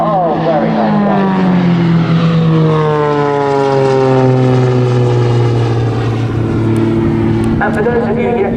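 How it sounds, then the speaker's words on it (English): A propeller display aircraft, flown by a young Spitfire pilot at the Southport Airshow 2024, roars loudly overhead with a steady drone whose pitch slides downward as it passes, with a brief sharper burst near the end. "Michael, flying for you here today, is also a commercial airline pilot on a Boeing 757."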